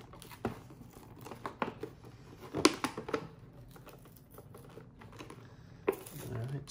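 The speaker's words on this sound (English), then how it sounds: "So let's get this package opened up." Someone opens a plastic action figure blister package, producing close, quiet crinkles, taps and tearing crackles in uneven bursts, with one sharper rip near the middle.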